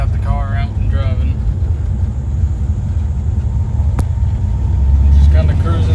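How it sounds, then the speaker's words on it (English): A 1974 Chevrolet Camaro cruising with its engine running, a steady low rumble throughout that swells slightly near the end, with a brief voice early on. "I've got the car out and driving."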